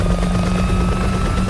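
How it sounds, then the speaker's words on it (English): A helicopter readies for takeoff during an evacuation in a post-apocalyptic film, its steady rotor thrum and engine whine loud and close throughout, with no talking. "So the helicopter they're in is preparing for takeoff."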